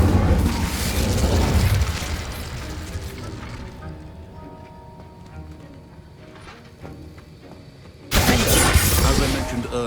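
Incendio fire spell cast in the Hogwarts Legacy video game, a loud whooshing fiery burst that fades into a quieter mechanical rumble before another sharp, bright blast erupts near the end.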